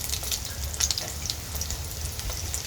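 Sardine patties fry in a pan with a crackling, popping sizzle of hot oil, close and continuous, with irregular sharp spits over a low rumble.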